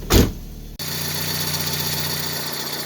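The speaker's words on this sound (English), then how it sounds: "engine sounds pretty decent. It's got a little bit of a squeal, which is probably just coming from one of the many belts" A car engine idles steadily and close by after a short burst of louder noise at the start, with a faint high belt squeal running through the hum.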